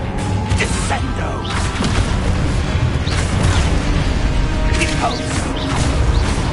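Descendo spell effect from a Harry Potter video game, a dense, loud layer of whooshing magic, crashing impacts and rumbling booms that runs the full length with bright streaks and swells in intensity.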